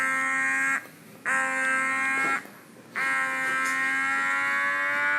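An electric cupping therapy device with adjustable pressure settings gives a loud, steady electronic whine with buzzing harmonics, cutting out in two brief gaps before resuming, heard alone.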